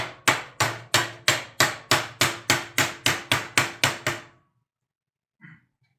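Sheet metal for ductwork rings under about a dozen evenly spaced, loud hammer blows, each decaying quickly, then silence with one faint knock.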